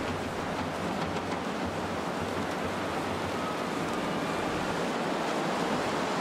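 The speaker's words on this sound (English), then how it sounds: "So all I can hear is just the wind." Wind roars steadily in The Long Dark, a broad, constant whoosh like surf with no pauses and no talking.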